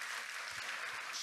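A church congregation applauding during a Sunday sermon, a brief burst of dense, even clapping heard from within the crowd.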